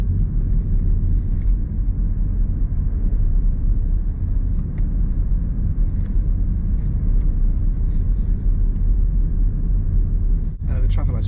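A learner driver's car on a mock driving test in Mill Hill eases off as it nears parked cars, giving a steady low engine rumble with road noise that continues throughout.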